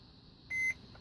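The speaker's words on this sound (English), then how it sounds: "Keep it pressed until it beeps." A single short electronic beep from a Mercedes Sprinter diesel van's dashboard button, clean and high-pitched, sounds once against a quiet background hum.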